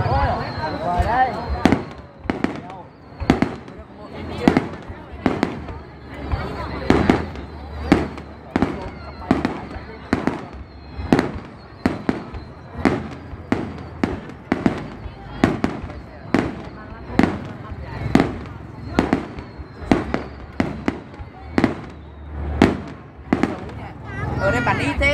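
A fireworks display in Thuận Thành, Bắc Ninh bursts in a steady rapid barrage of loud sharp bangs, one after another for the whole stretch, with people talking faintly in between.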